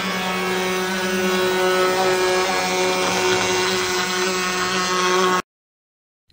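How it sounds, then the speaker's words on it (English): An APSX Spyder CNC machine mills aluminum mold plates with a loud, steady whine and dense grinding hiss that runs for about five seconds before cutting off abruptly into silence. "This small but powerful CNC machine allows us to take our design from the digital realm"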